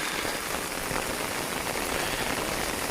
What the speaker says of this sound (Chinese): 哦，这雨下的